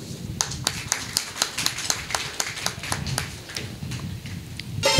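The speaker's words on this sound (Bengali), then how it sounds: "স্বর্ণাঞ্জলি অপেরার সমস্ত স্টাফ এবং কলাকুশলীদের জন্য একটা জোরে হাততালি চাইব প্রথমেই" An audience at a Bengali jatra opera ceremony claps for the company's staff and crew, a sparse, uneven run of handclaps that is close and fairly loud, with no talking.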